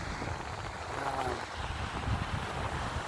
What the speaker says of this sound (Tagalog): Napakaganda talaga ng simoy ng hangin.